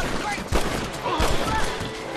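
Revolver shots fire in the Red Dead Redemption video game, two sharp cracks about half a second apart over game ambience.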